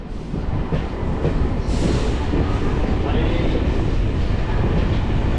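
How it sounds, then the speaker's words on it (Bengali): A MEMU local train pulls out of Mecheda station, its loud, steady rumble and rattling wheels filling the space from inside the carriage with no clear pauses. "এই মেচেদা স্টেশন থেকে ছেড়ে দিল আমাদের ট্রেন"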